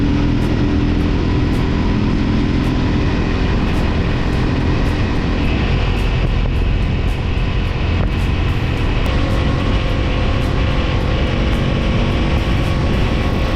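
A Triumph Scrambler motorcycle engine accelerating, a loud, steady roar with a droning low rumble, speed holding or rising slightly throughout, with no talking.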